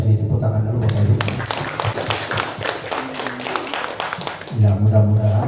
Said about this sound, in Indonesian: Saya apresiasi dan boleh dikasih tepuk tangan dulu Bapak Ibu.